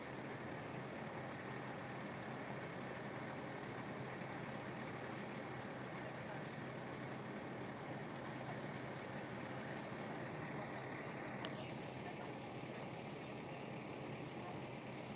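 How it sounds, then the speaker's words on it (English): Fire engine idling nearby at a vegetation fire on Little Mountain, a steady broadband rumble filling the whole stretch with constant loudness, no pauses. "that engine over there is idling and probably taking away a little bit from the audio."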